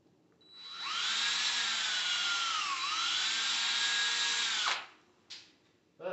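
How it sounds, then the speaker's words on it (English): Small power deburring tool whines steadily for about four seconds on the cut end of a brake line from a 1985 BMW 633 CSi, its pitch dipping briefly midway before it spins down, followed by a couple of faint clicks. "Now I'll get my tool and deburr it."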